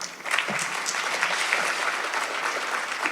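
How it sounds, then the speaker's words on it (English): Guests at an annual fundraising dinner clap together in a sustained, even round of applause, close and full, with no talk over it. "Please give a round of applause."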